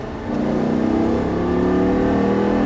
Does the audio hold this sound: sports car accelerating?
yes